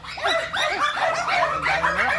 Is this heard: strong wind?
no